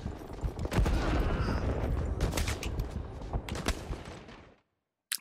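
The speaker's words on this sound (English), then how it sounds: "That was some good artillery, man." In Rising Storm 2: Vietnam, a dense barrage of artillery and gunfire crackles and booms continuously, loud and rumbling, then cuts to near silence before a final burst.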